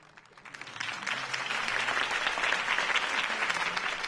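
Crowd applause in a Batman video game following Harvey Dent's campaign speech, a steady wash of clapping that swells after a soft start and holds, with no voices over it.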